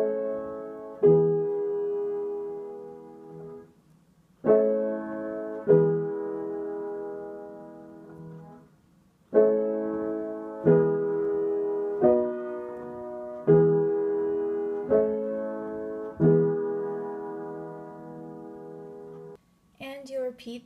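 Full piano chords from a song, played with both hands in a slow progression, each ringing and decaying before the next, with a few short pauses; a brief sound at the end.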